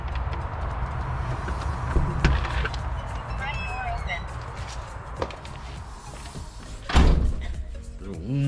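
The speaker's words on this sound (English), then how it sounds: "Now I'm just waiting on my brother to open the door." A house door opened by someone from the inside, heard as a few dull knocks and thuds, with a louder bump near the end. A person talks over a low background hum.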